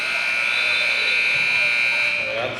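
An end-of-quarter buzzer sounds at a high school boys basketball game between Anderson and Buda Johnson: one loud, steady electronic tone held for over two seconds, with gym noise and voices underneath.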